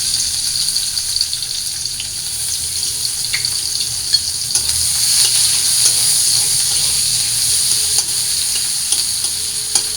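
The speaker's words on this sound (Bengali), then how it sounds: "শুটকি রান্না করার জন্য কড়ার মধ্যে তেল দিয়ে দিছি, এবার পেঁয়াজ কুচি দিয়ে দিলাম।" Chopped onions fry in oil in a wok, kadai style, for a dried fish curry: a continuous loud sizzle with scattered spatula scrapes and taps throughout, rising slightly midway, with no talking.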